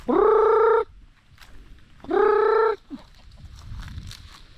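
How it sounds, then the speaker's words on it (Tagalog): Two loud, drawn-out harmonic chicken calls, each under a second, separated by a pause, with quieter rustling and low background noise between, on a farm. "Yan, yung mga manok."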